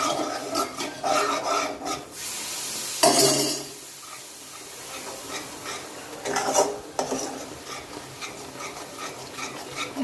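Mysore pak mixture is stirred briskly in a pan as ghee goes in bit by bit, giving rasping scrapes in bursts with a soft sizzle and brief pauses between strokes.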